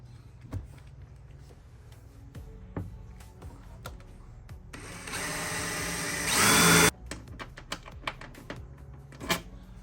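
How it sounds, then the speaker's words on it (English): A power drill bores into a Nissan car hood to mount gas struts, one sustained loud whine of about two seconds followed by a sharp cutoff, with scattered clicks and taps from handling the tool and panel before and after. "All right, here goes nothing. We're gonna start drilling."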